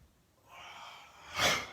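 A person breathing in deeply during a guided breathing exercise: a soft, airy inhale swelling gently, then a stronger, louder rush of breath near the end, close and alone.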